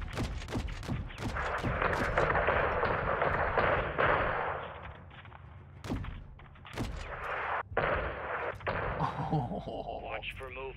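AC-130 gunship in Call of Duty: Modern Warfare 2 firing, heavy booming impacts and rumbling bursts amid loud battle noise, with radio chatter voices over the top.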